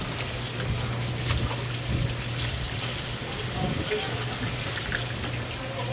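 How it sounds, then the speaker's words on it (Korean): Strong outdoor wind buffeting a microphone under a roofed outdoor area, a constant rushing roar with gusty bumps and a low steady hum underneath. "바람 진짜 많이 나네."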